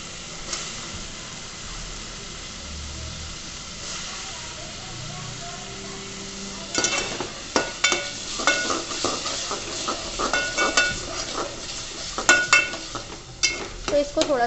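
Capsicum goes into a pan of oil and spice masala. After a quiet start, loud sizzling bursts out with sharp crackles and stirring scrapes, while someone talks through it.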